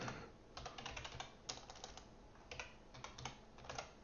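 Someone types on a faulty computer keyboard in irregular bursts of quiet clicking keystrokes, faint and close, with short pauses between flurries and no talk.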